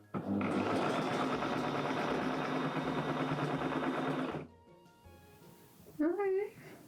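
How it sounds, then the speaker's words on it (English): A sewing machine stitching velvet runs in one steady, loud mechanical whirr for about four seconds, then stops; a short burst of voice follows near the end. "Now for the part I have feared, sewing velvet for the first time."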